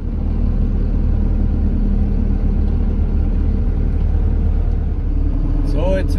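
Camper van driving along a rocky mountain road in the Rhodope Mountains of Bulgaria, a loud steady engine and road rumble from inside the cab throughout.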